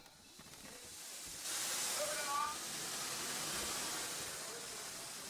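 A steady rush of hissing steam from a wood-fired steam tractor swells and holds, loud and close, with a faint brief whistle-like tone partway through.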